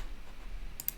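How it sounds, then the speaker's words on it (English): A single mouse click lands near the end, a short, sharp, close tick against a quiet background. "Let's click on start."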